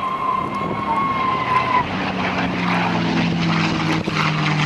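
Rolls-Royce Merlin liquid-cooled engine of a P-51 Mustang at an airshow, a loud steady propeller drone with a shifting engine tone, heard continuously at moderate distance.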